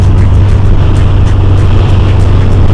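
A Volkswagen Golf cruising on the highway, its engine and road noise forming a loud, steady low drone with a rattling, shaking character throughout, no talk.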